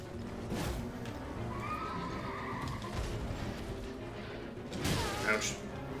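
Horse neighing and whinnying with clip-clopping hooves in an exploration video game, a loud whinny standing out near the end over a busy background of game effects and clatter while a voice is faintly present.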